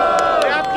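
Crowd cheering and shouting at the grand final of a Brazilian rap battle, Batalha do Metrô, a loud continuous roar with bursts of yelling and voices mixed in throughout.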